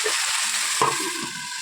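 Cauliflower and potato fry with onion greens in a pan, giving a continuous close sizzle with a brief clatter midway.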